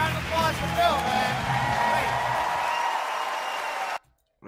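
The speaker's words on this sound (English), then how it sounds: "Bill Burr, round of applause for Bill" Studio audience applauding comedian Bill Burr at a stand-up show, a dense wash of clapping with a few whoops, loud and steady before cutting off abruptly near the end.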